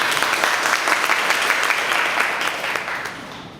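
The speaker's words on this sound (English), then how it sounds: "Give them a big applause." A room of people at a club meeting clapping together, a dense, loud burst of applause that holds steady and then begins to thin out toward the end.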